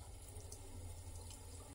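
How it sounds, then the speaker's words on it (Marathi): Lukewarm water poured into soaked rice in a mixer jar before grinding, a faint steady trickling flow running continuously, quiet and close. "थोडंसं कोमट पाणी घालायचं आहे"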